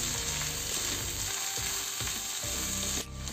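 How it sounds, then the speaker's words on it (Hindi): Vegetables and frozen peas frying in a pot while a spoon stirs them, a continuous dense sizzle with rhythmic scraping and clicking from the spoon, close and loud. "इसे भी एक बार चम्मच चला दीजिए अच्छे से।"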